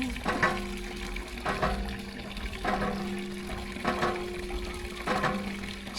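Groundwater from a well runs and pours steadily nearby, a continuous watery rush that swells in repeating surges every second or so.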